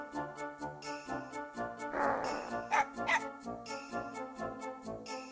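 A dog in Mega Man Legends barks in a string of quick, yappy bow-wows and yips over a tinkling musical backing, with a brief louder flurry midway.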